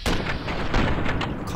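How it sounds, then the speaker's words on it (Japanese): Explosives fly overhead in Fallout New Vegas amid a firefight, dense loud overlapping gunfire and blasts with no break, with a voice speaking over the noise. "なんか爆弾飛んでるぞ"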